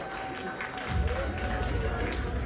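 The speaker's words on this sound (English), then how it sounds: "please give one more applause for our PKU" An audience claps after a cultural performance, a steady patter of applause that swells louder partway through, with voices mixed in.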